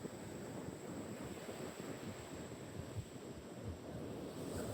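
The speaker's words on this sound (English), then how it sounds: "There's a bloody proper surf on now. The wind's picked up." Sea surf rolls onto an Anglesey beach under a strong wind, a continuous low rushing roar with buffeting gusts across the microphone and no voices.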